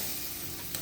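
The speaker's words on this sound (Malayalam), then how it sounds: "നന്നായിട്ട് ചൂടായി വന്നപ്പോൾ അതിലേക്ക് നമ്മളെ പ്രോൺസ് ഇട്ടിട്ട് ഒന്ന് ഫ്രൈ ചെയ്തെടുക്കണം കേട്ടോ" Coconut oil heats in a pan before prawns are fried, giving a steady, close, dense sizzle that does not break. No voices are heard.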